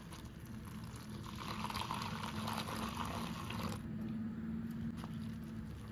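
Hot water pouring into powdered Amul milk to mix it, a steady continuous liquid rush at close range that swells in the middle and runs on throughout, with no talking.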